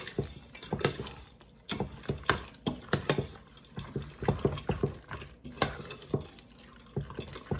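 Crockpot meal ingredients with Worcestershire sauce being mixed together in a bowl, giving wet, sloppy stirring and scraping strokes in a steady irregular rhythm, close and moderately loud with no talk.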